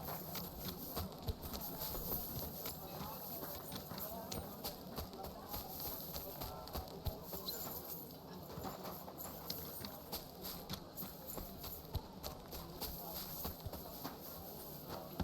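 Horse hooves clip-clop steadily in the video game Kingdom Come Deliverance II, a quiet rhythmic patter of footfalls running throughout with faint voices in the background.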